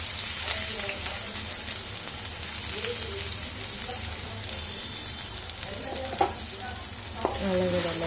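Potato pieces frying in hot oil for a vegetable roll give a dense, steady sizzle with occasional stirring knocks near the end, no voices.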